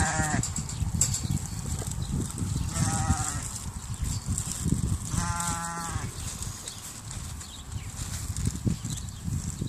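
Goats bleat repeatedly in a noisy pen as a crowd of them is hand-fed with too little food to go around, several harmonic calls rising over shuffling, trampling and general farmyard clatter.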